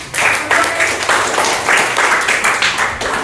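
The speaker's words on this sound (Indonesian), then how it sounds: "tepuk tangan" A sixth-grade elementary classroom gives a round of applause, bursts of children's clapping rising and falling in short waves over several seconds, with voices mixed in.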